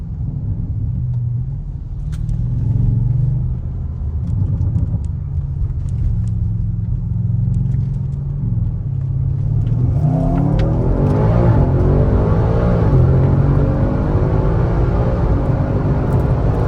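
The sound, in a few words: tuned car accelerating, automatically shifting gears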